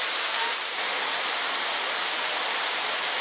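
A steady, broadband rush of falling water roars continuously, dense and hissing, like standing close to a waterfall in a park in Da Lat, Vietnam.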